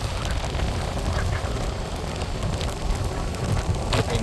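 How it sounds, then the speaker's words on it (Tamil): Steady rain falls in Jaffna as a storm begins, a dense, continuous hiss of drops hitting surfaces that holds at an even level throughout with no voices. "எங்காலி பக்கம் தான் மழை அடிச்சு கொண்டிருக்குது."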